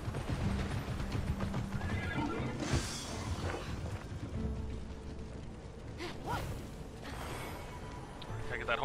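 A horse in Immortals Fenyx Rising whinnies loudly over steady clip-clopping hooves, with a low background hum running throughout.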